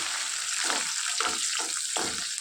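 Onion pieces hiss loudly in hot oil with tempering spices for a brinjal-tomato curry, a steady close sizzle with a few louder bursts as the pieces are stirred, and no talking.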